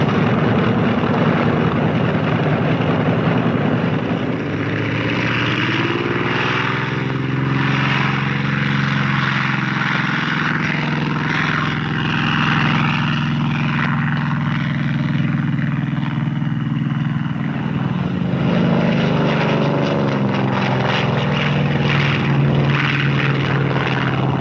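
A Grumman F6F Hellcat propeller fighter takes off with a loud, steady engine roar that drones without a break from start to finish.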